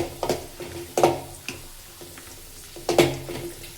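Ingredients for peanut chutney, with plenty of garlic, frying in a little oil: soft sizzling beneath several sharp clanks of a spoon against the pan, close-up, with quieter gaps between the strikes.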